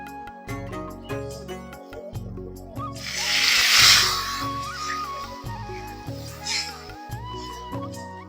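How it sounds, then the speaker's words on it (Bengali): Water hits a hot pan of fried spices for a fish and potato curry and bursts into a loud hissing sizzle that swells and fades, over a steady background of music. "আর ওটা আমি কষে নিয়েছি ভালো করে এখন জল দিয়ে দেবো"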